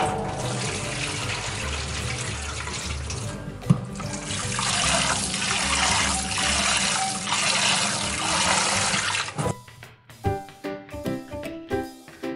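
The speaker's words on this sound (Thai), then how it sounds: "ล้างหลายๆน้ำเลยค่ะล้างให้ใสเลยนะคะ" Mung beans being washed under running tap water while preparing a Chinese pastry filling, a steady rushing stream for most of the time, then broken splashes and clinks as the water stops.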